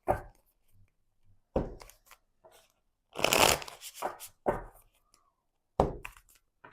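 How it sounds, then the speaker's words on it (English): Tarot cards are shuffled in close, crisp bursts of riffling and slapping, with short pauses and a few soft knocks between them. "we're just going to shuffle for you"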